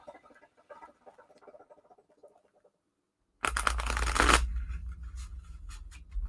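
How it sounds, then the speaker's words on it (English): A deck of cards being shuffled, starting with faint scattered rustles, then a brief silence, then a sudden loud, close riffle of cards cascading together, followed by lighter handling clicks. "Let's get a good shuffle in here."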